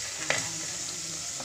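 Onion and tomato sautéing for a fish curry give a continuous close sizzle, with one brief utensil scrape near the start and a faint tap at the end.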